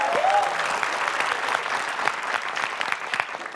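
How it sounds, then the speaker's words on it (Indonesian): A studio audience at a quiz-style show breaks into a round of applause, dense clapping with scattered sharper claps and a faint crowd murmur, fading slightly toward the end. "Boleh kan tepuk tangan?"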